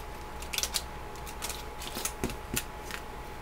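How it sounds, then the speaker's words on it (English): Small scissors snip and lift tiny bling embellishments for a craft project, producing a string of light, crisp clicks and ticks scattered over a soft background hum. "you can see these are really easy to remove with the scissors."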